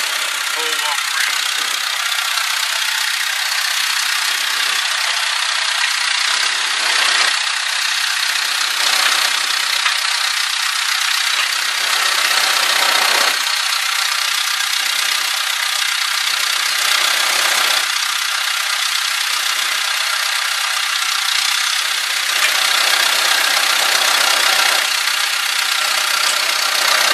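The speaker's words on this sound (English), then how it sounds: "This is a four-cylinder turbo engine." A John Deere 550C dozer's four-cylinder turbo diesel with a new turbo idles steadily and close, a continuous rattly hum with rhythmic dips, while a person talks over it at times.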